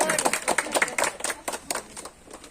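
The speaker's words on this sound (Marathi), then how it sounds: "याच्यासाठी टाळ्या" Scattered clapping from a small group of people outdoors at Shivneri Fort in Junnar, a quick irregular patter of claps lasting a couple of seconds with some faint voices mixed in.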